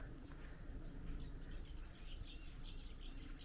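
Faint birds chirp and tweet in the distance, scattered calls over a quiet outdoor background hum.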